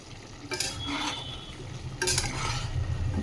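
Desi chicken curry being stirred in a pot: two brisk scraping strokes of the spoon stand out over a steady low bubbling hiss, close by and without speech.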